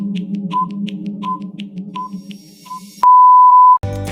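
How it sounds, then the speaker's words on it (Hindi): A countdown timer plays a steady series of short beeps, roughly one every 0.7 seconds, over a low hum, then ends with a loud sustained alarm tone lasting nearly a second before a burst of music. "मैं टाइमर लगा रहा हूँ"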